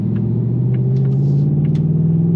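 A 2025 Ford Mustang Dark Horse engine pulls under throttle, giving a steady, loud, low rumble with a faintly rising tone. No one speaks over it.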